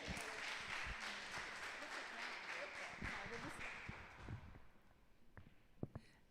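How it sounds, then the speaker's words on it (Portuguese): Congregation applauding at a women's church gathering, a dense steady wash of clapping that thins out toward the end, with a few sharper claps and some talk mixed in. "Aplauda ao Senhor, então."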